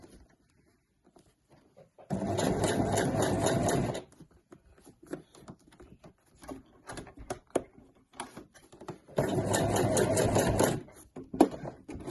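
A domestic sewing machine stitches the handles of a weekender bag in two bursts of fast, steady whirring, with quieter clicks and handling noises in between.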